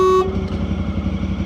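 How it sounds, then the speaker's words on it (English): A short side-by-side vehicle horn blast at the very start, cut off abruptly, leaving its idling engine chugging steadily underneath. "Well, you're gonna honk the horn."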